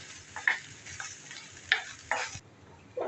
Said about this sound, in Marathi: आणि ते आपण फ्राय करून घेऊया